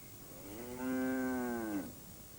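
A single cow gives one sustained, fairly loud moo of about a second, rising at the start and dropping off at the end, against a quiet background.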